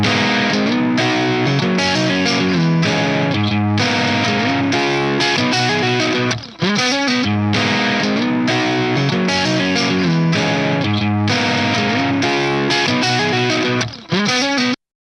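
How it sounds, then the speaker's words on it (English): Heavily distorted electric guitar through a tube amp fitted with 6L6 power tubes chugs out loud, dense palm-muted riffs with sharp stops, playing continuously and alone for about fifteen seconds. "the 6L6 make the amp sound colder and more aggressive"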